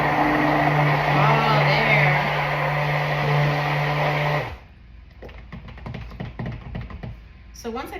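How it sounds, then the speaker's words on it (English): A stick blender whirs steadily through lavender soap batter for about four seconds, a loud motor drone, then cuts off, leaving small clicks and handling noises of the container and utensils. "Let's stick blend that a little bit and get everything really mixed up in there."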